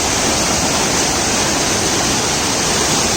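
Heavy rain-swollen water rushes through a dam, a loud continuous broadband roar that stays steady and close throughout with no voices.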